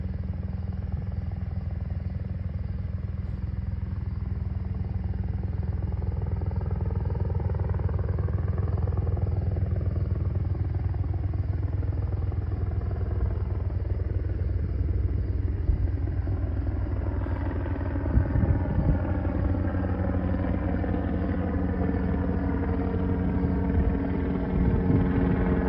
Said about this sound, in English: That Chinook is back, dude. You hear those blades?